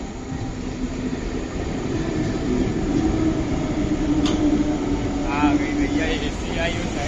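Mumbai local train standing at Mumbra station platform at night, a steady loud rumble of idling carriages with a public-address voice announcing over it throughout.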